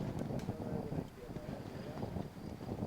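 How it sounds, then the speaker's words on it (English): Blustery wind rushing across an outdoor archery venue at the archers' end of a women's compound final, a steady low roar buffeting the microphone throughout, with faint commentary murmuring underneath. "There seems to be a lot of wind at the archer's end"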